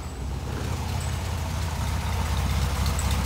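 Steady low idle from a 1965 Volkswagen Beetle convertible, the engine's even putter heard up close and unbroken for a few seconds, nothing else over it.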